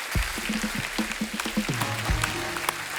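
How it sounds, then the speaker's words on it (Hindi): A studio audience on The Kapil Sharma Show, a Hindi TV comedy show, applauds steadily for the cast of Kisi Ka Bhai Kisi Ki Jaan, with tonal music or voices sounding underneath the claps. "एक बार जोरदार तालियां किसी का भाई किसी की जान की पूरी स्टारकास्ट के लिए"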